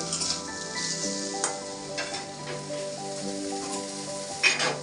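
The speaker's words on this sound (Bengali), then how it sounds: "আলু বেগুন ভাজা বসিয়েছি" Potato and eggplant slices fry in a pan at home, a soft, continuous sizzle with a few brighter pops, set against a steady tonal background sound.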